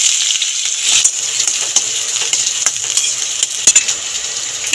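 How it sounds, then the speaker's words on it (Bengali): Chopped onions frying in mustard oil in a kadai give a steady, close sizzle, with a few metallic clinks and scrapes of a stirring utensil rising above it. "এই কুচুম্ব করা পেঁয়াজ, এগুলো এবার দিয়ে দেবো।"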